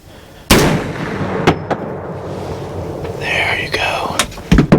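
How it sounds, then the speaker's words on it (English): A .450 Bushmaster hunting rifle fires a single loud, sharp shot close by, and its boom rolls away outdoors while a person talks quietly before and after it. "I think I gut shot it, Peyton."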